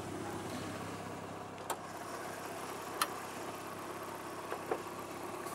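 Modified Ford Cosworth engine, transverse mounted, idling steadily with a low mechanical hum, plus a few sharp clicks or taps scattered across the run; moderately quiet and with no talking.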